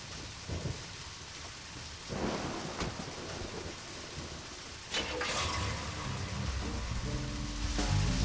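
Heavy rain pours steadily in the video game Deadly Premonition while thunder rumbles and cracks several times, the storm building louder toward the end with no voices over it.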